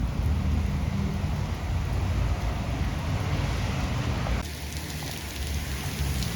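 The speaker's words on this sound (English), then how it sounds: "the rain got 10 times heavier" Heavy rain pours steadily in Florida while a motorbike sits out getting soaked, a dense, loud, continuous hiss with a slight drop in intensity near the end.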